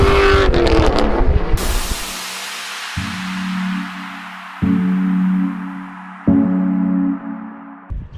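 A 2004 C5 Corvette engine gives a short, loud burst of revving at the start, then cuts to a quieter steady drone that comes back in a few separate sustained blocks.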